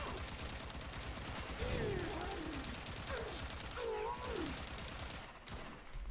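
Rapid automatic weapon fire from a Warframe game session with infinite ammo, with continuous bursts crackling under chirpy game effects and a speaking voice throughout.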